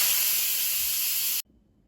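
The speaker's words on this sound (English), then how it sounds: "Now the Instant Pot is done cooking, so let's quickly release the steam." An Instant Pot cooking cinnamon apples lets off its quick steam release as a loud, steady hiss, close and alone, which cuts off abruptly after about a second and a half.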